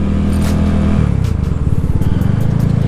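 A Fekon 3GP motorcycle's engine and somewhat loud exhaust, a steady close drone that breaks into a fast pulsing rumble as it runs through the gears.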